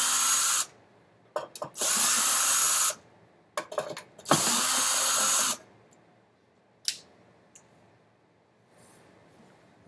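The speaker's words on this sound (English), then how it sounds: "So let's go ahead and remove the screws from the top." A power drill whirs in three bursts, then a few short blips, removing screws from the top of a La-Z-Boy rocker base, loud and close with quiet gaps between runs and no talk.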